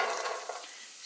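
Carrots frying in a pan, a dense, steady crackling sizzle that stays close and even with no talking.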